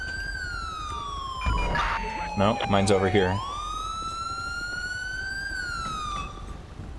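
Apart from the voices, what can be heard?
police car siren in GTA5 LSPDFR video game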